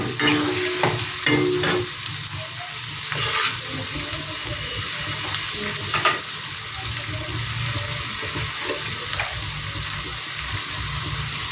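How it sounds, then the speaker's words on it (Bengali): Onions with whole garam masala fry in a pan, a steady sizzle running throughout with occasional stirring scrapes and light clinks, close and moderately loud with no talking. "পেঁয়াজটা একটু আমি হালকা করে লাল লাল করে ভেজে নেব।"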